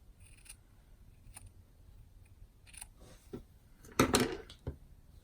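Scissors snip away excess paper around a paperclip embellishment in a few separate close cuts, with a louder burst of crisp crinkling near the end of the few seconds; no one speaks.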